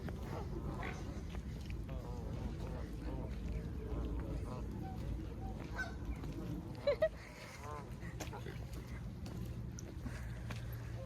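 Geese and ducks honk and call in a busy, overlapping chorus over steady low background rumble, with people talking throughout.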